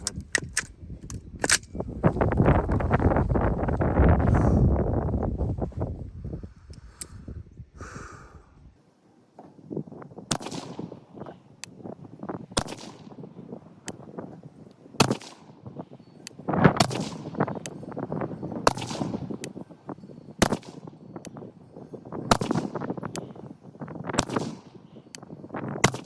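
Rifle fired for a ten-shot group while zeroing a Vortex Razor Gen II scope, sharp loud cracks spaced a couple of seconds apart, each with a short echoing tail, after a stretch of louder rustling handling noise.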